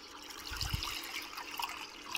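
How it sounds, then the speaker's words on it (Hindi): Water is poured into a pan in a home kitchen, a short gush and splash that soon settles into a light trickle, fairly quiet and without talking. "अब हमने एक पैन ले ली और इसमें हम करते हैं जी पानी को ऐड।"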